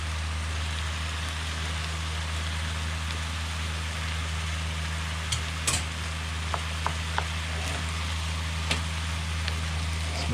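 Drained potatoes stirred into a pork empanada filling in a pan: a steady soft sizzle and scraping hiss with a few faint clicks of the spoon, close and continuous, no talk.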